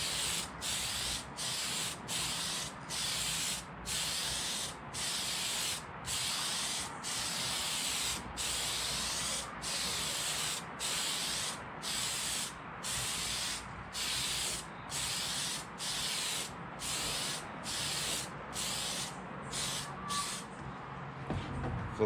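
An Arrma Limitless RC car body being spray painted in short, even bursts, roughly a second each and evenly spaced, close and loud, each burst a hissing spray with brief gaps between.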